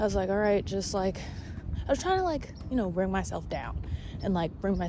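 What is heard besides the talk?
No everyday noise stands out behind the speech.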